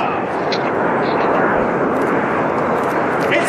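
Jet aircraft of the Italian national aerobatic team, Frecce Tricolori, roaring through a display at the Jesolo Air Extreme 2011 show, a loud sustained broad rumble, with an announcer speaking over it.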